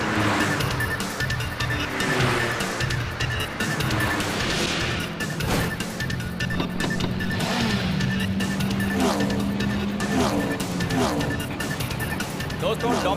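Race cars at the start of a race in a TV drama, a steady dense engine roar with rising and falling pitch sweeps as cars pass, under continuous commentary.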